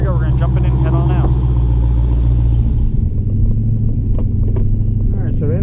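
A modified 2017 Dodge Hellcat with a louder, deeper-than-stock exhaust rumbles heavily up close as it pulls away, a thick low drone that shifts pitch partway through.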